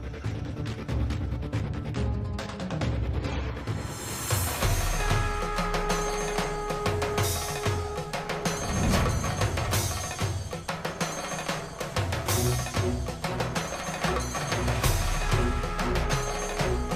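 A telephone rings repeatedly in a steady ring pattern, heard clearly and alone without any talk.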